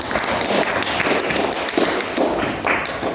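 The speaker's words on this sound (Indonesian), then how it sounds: "Ya, beri tepuk tangan untuk kelompok 2." A classroom of students applauds group 2, a lively burst of clapping with uneven rhythmic pulses that holds for a few seconds.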